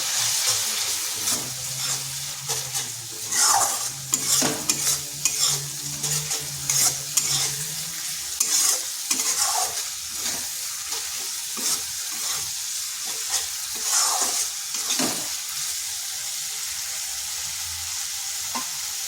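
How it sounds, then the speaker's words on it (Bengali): Spice paste stirred and frying in a wok with small splashes of water, with steady sizzling broken by repeated scraping strokes of a spoon, close and moderately loud. "এইভাবে অল্প অল্প জল দিয়ে মশলাটা কষতে হবে।"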